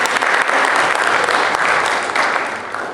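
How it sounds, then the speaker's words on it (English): Audience at an LGBTQ youth empowerment conference keynote gives a big, sustained round of applause for the group True Colors, dense and steady clapping throughout, tapering slightly at the end. "Let's give them one big round of applause for True Colors."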